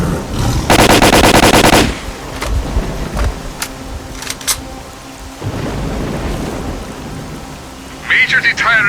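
Rapid automatic gunfire in the video game S.T.A.L.K.E.R.: Call of Pripyat, a loud dense burst lasting about a second, followed by scattered sharper shots, rumbling combat noise and a brief voice near the end.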